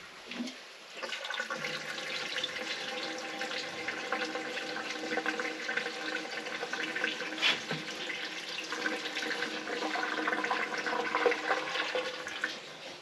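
Fuel pours steadily into the tank of a Ford Econoline van, a continuous close rushing liquid stream lasting throughout with no talk over it.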